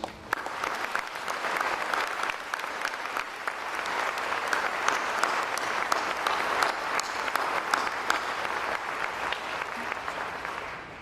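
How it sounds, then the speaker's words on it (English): A large audience at a university graduation ceremony gives sustained applause, dense clapping filling the hall evenly from start to finish. "I ask that you join me in giving incredible applause and thank you to these two women."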